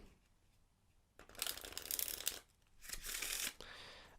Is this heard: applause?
no